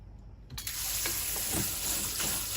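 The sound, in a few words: water rinsing beans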